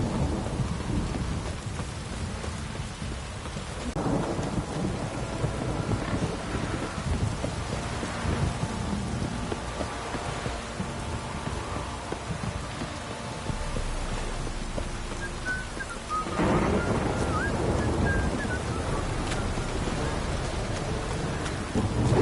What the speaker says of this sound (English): Don't stop raining, my arse will rot off.